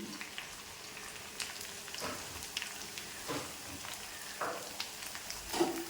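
Curry leaves and crushed ginger fry in a pan for a Kerala chickpea curry, giving a faint, steady sizzle with scattered crackles and light stirring noises, close and quiet.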